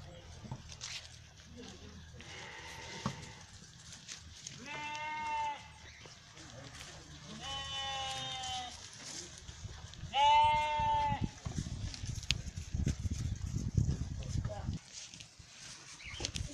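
A herd of sheep being fed bleats in three clear, drawn-out calls spread across the stretch, with soft rustling, movement and faint background voices between them.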